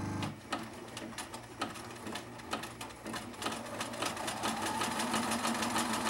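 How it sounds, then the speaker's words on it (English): Home sewing machine stitching a very wide zigzag back and forth over a strand of dental floss, a steady close mechanical whir with rapid even needle clicks running throughout, no voices. "all I'm going to do is make a very large, very wide zigzag back and forth over this piece of dental floss."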